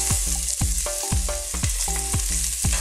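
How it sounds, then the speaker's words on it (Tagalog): Garlic sizzles loudly in hot oil in a cooking pot, with a steady close frying hiss and repeated stirring knocks against the pot, and no voice. "Mainit na po yung mantika dito sa cooking pot. Lalagay na po natin ang garlic."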